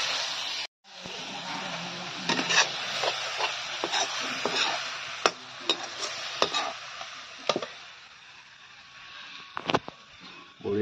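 Onions frying in a pan with skunkvine leaves stirred in, a steady sizzle broken by repeated scraping and clinking of a spatula against the pan, close and fairly loud throughout.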